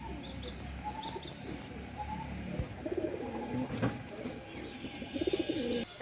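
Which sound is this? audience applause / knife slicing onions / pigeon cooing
pigeon cooing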